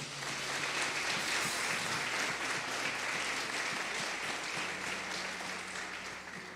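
A church congregation applauds the Lord after a prayer, dense steady clapping from many hands filling the room, with a faint low hum beneath.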